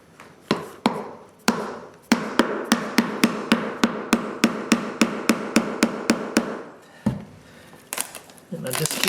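Subfloor wood is dug out and broken up: about twenty sharp, evenly spaced strikes ring out close by, framed by scattered cracks and scraping before and after.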